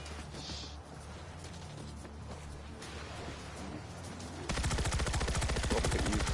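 Rapid automatic weapons fire from a video game with wide bullet spread, a dense continuous rattle that swells louder and harsher midway through and keeps hammering to the end.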